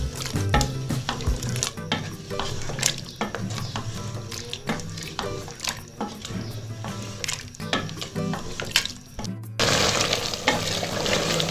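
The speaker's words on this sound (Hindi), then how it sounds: "ये मैं भून रही हूँ गोश्त को" Mutton sizzles and fries in a pot while being stirred, a steady close crackle broken by repeated scraping strokes of the spoon, with a brief pause near the end before the frying continues.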